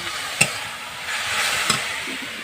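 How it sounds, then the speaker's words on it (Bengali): Red amaranth greens fry in a pan, a close, steady sizzle with a couple of sharp stirring scrapes and no voices. "আর এখানে দেখো লাল শাক ভাজা হচ্ছে"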